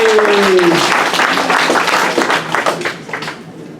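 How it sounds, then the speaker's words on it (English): An audience at a startup conference keynote applauds with a burst of clapping that gradually thins out and fades, with a brief tone at the start. "Let's give him a round of applause."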